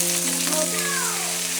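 Garlic frying in a pan for a spicy and sour noodle soup, giving a steady close sizzle with a faint scrape of stirring partway through.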